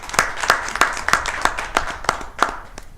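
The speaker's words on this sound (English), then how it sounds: "So I'd like to give him a round of applause if we could." Several people clap together in a short, even burst of applause in a town council meeting room, the individual hand claps distinct and fairly close.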